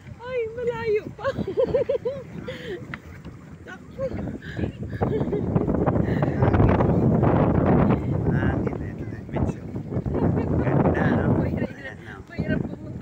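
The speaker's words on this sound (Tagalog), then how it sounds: "Mahangin." Strong wind at Camaya Coast buffets the microphone in loud, rumbling gusts that swell and persist for several seconds, while people talk and laugh over it nearby.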